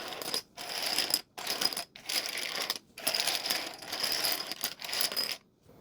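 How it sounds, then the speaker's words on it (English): Rummikub tiles are shuffled face down on a table, giving quiet bursts of clicking, clattering plastic separated by short silent pauses. "we're going to place all of our tiles face down on the table and shuffle them up"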